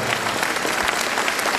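Audience applause filling a women's Bundesliga volleyball hall, a dense, steady wash of many hands clapping at once without a break.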